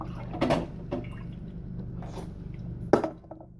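Monster Energy Zero Ultra is poured into a pot of ramen and stirred up, giving soft wet squishes and drips with two sharper splashy bursts, close and fairly quiet with no talking.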